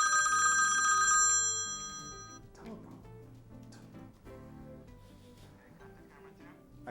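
Telephone ringing for an incoming call on a talk radio show, a few clear electronic rings in the first two seconds, then fading under music and studio background.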